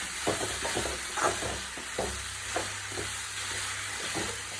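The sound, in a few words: turmeric powder being stirred into frying food in a pan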